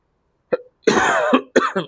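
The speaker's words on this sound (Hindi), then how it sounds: "खांसी हो रही है" A short cough followed by a harsh, drawn-out throat-clearing hack and two more quick coughs, close and loud against silence.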